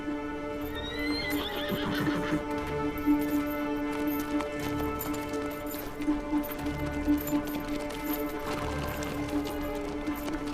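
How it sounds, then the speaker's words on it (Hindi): A new horse being looked after in a camp whinnies and neighs repeatedly over steady hoof clip-clop and a droning musical score, close and fairly loud throughout. "ये नया घोड़ा किसका है?"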